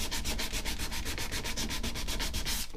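An electric power sander works across the flat surface of an antique oak dining table, giving a loud, steady abrasive whir with even rhythmic pulses and no talk.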